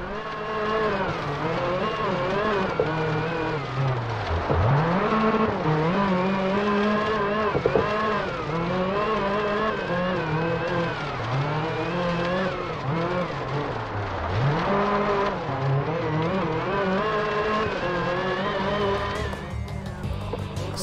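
A Suzuki rally car in the SLRE racing game drives steadily, its engine droning loud and close while the pitch climbs and drops repeatedly through gear shifts, with no speech.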